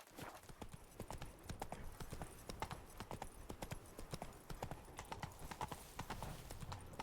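Hooves of the horse in The Witcher 3 video game clip-clop in a quick, steady walking rhythm, close and clear throughout with no talking.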